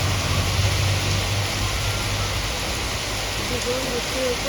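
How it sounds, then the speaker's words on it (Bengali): Steady, dense hiss of rain falling, continuous and fairly loud throughout, with a low rumble underneath and a faint voice briefly near the end. "চলো তোমাদেরকে দেখাই কীরকম বৃষ্টি হচ্ছে দেখো বৃষ্টি হচ্ছে"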